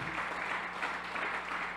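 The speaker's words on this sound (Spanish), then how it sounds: "Quiero que le demos un fuerte, fuerte, fuerte aplauso al Señor de gratitud en esta buena mañana." A church congregation applauds together on a Sunday morning, a steady, moderately quiet wash of many hands clapping with no pauses.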